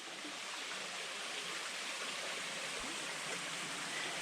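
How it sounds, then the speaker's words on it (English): A creek feeding Amos Falls flows steadily after recent rain, a soft, even, continuous babble of running water heard close by with no voices. "This must be the creek that feeds Amos Falls."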